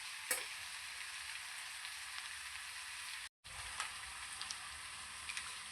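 Boiled rice sizzles steadily in a hot pan for chicken fried rice, a continuous close frying hiss marked by occasional stirring clicks and scrapes and one brief dropout.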